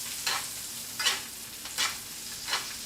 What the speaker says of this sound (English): And then we're just basting our steak.